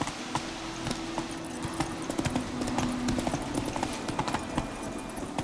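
Steady rhythmic hoofbeats of the horse Roach galloping in The Witcher 3, a continuous quick clip-clop of moderate loudness with no talking over it.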